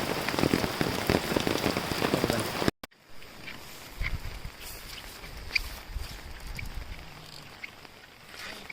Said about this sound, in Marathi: पाऊस तर थांबायचं नाव नाही घेत.